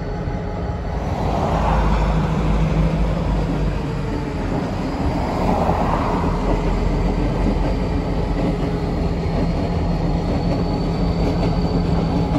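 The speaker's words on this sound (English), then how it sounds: "Train." Union Pacific local freight train moving on a railroad siding at a Home Depot distribution center in San Antonio, a loud continuous rumble and clatter of rolling railcars with faint wheel squeal throughout.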